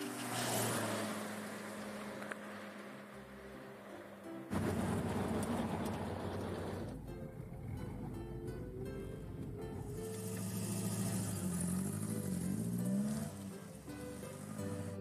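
A cartoon car from Postman Pat drives along with a soft engine hum and brief revs, set amid background music and shifting scene sounds, faint overall.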